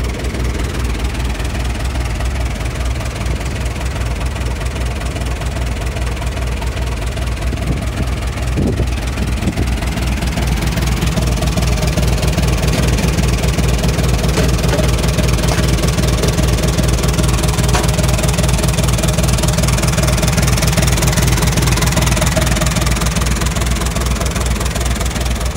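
A Kubota M6970 tractor engine runs steadily for the whole stretch, a loud, close, low diesel rumble with a constant vibrating drone and no break.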